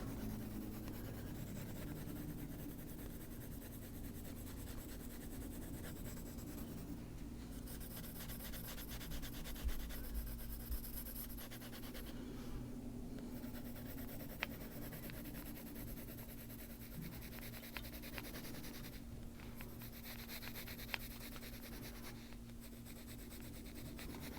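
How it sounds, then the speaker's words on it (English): Colored pencil shading on paper with the side of the lead, a soft continuous rubbing and scratching at close range with slight variations in stroke. "I'm going to use the side of the pencil lead, not the tip. So just running it on the side here."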